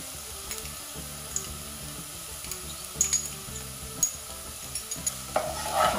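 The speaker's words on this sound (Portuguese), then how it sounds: "Continuar mexendo um pouquinho mais para depois acrescentar a carne." Onion and garlic sizzle gently in a pan while a utensil stirs them, scraping and tapping now and then against the pan, with no one speaking.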